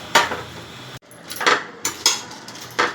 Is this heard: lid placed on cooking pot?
yes